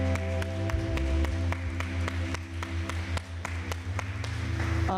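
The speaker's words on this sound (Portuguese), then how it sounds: "Dá uma salva de palmas para o Senhor Jesus." A church congregation claps during an online Baptist service, scattered individual claps popping out over sustained organ or keyboard chords and a low hum, the clapping fairly light and uneven.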